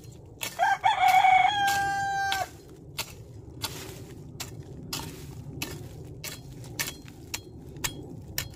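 A rooster crows loudly and close by with one long drawn-out call, while chickens cluck and scratch around it afterward among scattered soft knocks and rustles outdoors.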